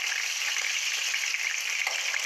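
Lamb testicles fry in a pan, giving a steady, dense sizzle that crackles evenly throughout with no voices over it.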